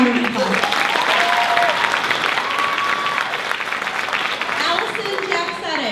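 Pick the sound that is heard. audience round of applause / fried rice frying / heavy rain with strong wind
audience round of applause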